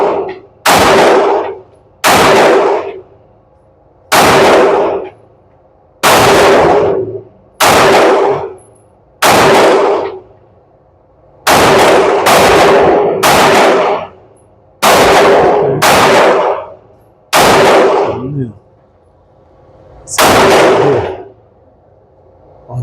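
Pistol shots from a Canik TTI Combat and a Sig P365 AXG Legion during sight calibration at a range, about a dozen loud, sharp reports fired in uneven clusters, some in quick pairs, with short quiet gaps.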